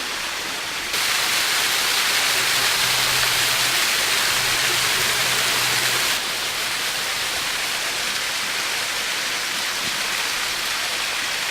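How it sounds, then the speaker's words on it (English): Fresh mountain water in Fiji runs steadily as water bottles are filled, making a continuous broad rushing hiss that grows louder for several seconds before easing slightly, with no talking. "where we're just filling up our water bottles"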